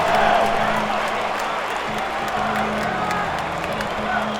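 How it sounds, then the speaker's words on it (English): Stadium crowd noise in the MLB 2K8 baseball video game during a game against the Oakland Athletics, a sustained roar of cheering and whoops with a broadcast announcer talking over it. "The crowd is going crazy."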